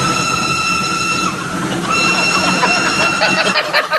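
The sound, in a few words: crowd of ducks quacking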